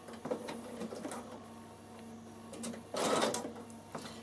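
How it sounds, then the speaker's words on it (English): A Bernina sewing machine runs a zigzag stitch over a cord in a steady whirring, rattling hum, with a louder surge of stitching partway through and no talk. "What I'm going to do is I'm going to just start zigzagging first."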